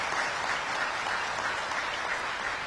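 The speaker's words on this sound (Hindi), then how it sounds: "ताली मारिए जोर से।" An audience applauds continuously at the inauguration of the Ved Vigyan Mahakumbh in Kangari, a dense, even wash of clapping hands that holds steady throughout without a break.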